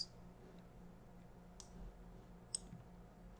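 A computer mouse clicks a few times while being used in the Figma design app, with soft, sparse, isolated clicks spread apart over a low background hum.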